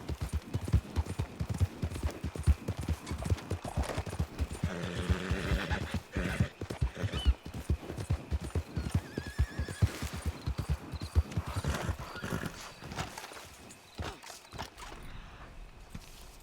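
A horse in Red Dead Redemption 2 gallops with fast, steady clip-clop hoofbeats throughout, with a neigh rising partway through, loud and close with no talk.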